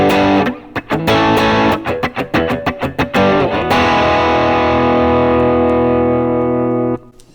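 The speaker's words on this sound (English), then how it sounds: "Now let's do some overdrive." Electric guitar played through an overdrive effect, a rhythmic run of strummed chords and stabs followed by one long sustained chord ringing out for several seconds before cutting off; loud, slightly gritty and mid-heavy, no voices.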